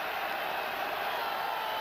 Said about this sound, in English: Sellout crowd comes alive on third down and 2.